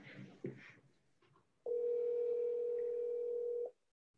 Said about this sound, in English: I'm calling you, Chantel.